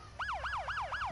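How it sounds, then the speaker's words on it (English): A police siren in yelp mode from a roleplay video game sweeps up and down rapidly, four quick clear cycles at moderate volume with nothing else heard. "I use Cop Siren Yelp 1."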